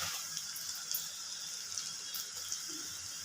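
Okra pieces frying in hot oil over a medium flame give a steady, soft sizzling hiss with faint crackles scattered through it.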